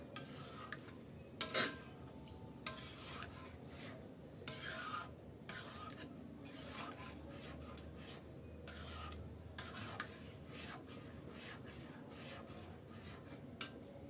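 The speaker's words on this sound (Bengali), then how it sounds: "দেখেন ডালটা মাংসের সাথে কষাতে কষাতে এখানে ডালটা একটা আঠালো ভাব চলে এসেছে" Lentils and meat being stirred in a cooking pot for haleem, with repeated scraping and rubbing strokes of a utensil against the pot over a faint sizzle, quiet and close.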